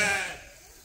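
A single sheep bleat in a barn among ewes being readied for a breeding group, close and loud at first, then trailing off quickly.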